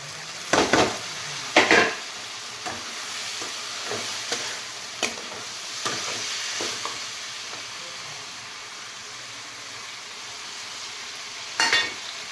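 Cauliflower and peas tumble into a frying pan and get stirred, with sharp spoon-on-pan clatters and scrapes at irregular intervals over a quiet steady sizzle, louder knocks early and again near the end.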